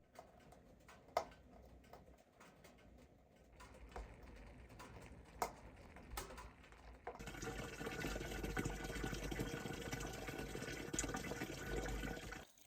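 Water pours into containers outdoors in cold Alaska, a steady gurgling rush that starts partway through after scattered ticks and clinks, with no talk.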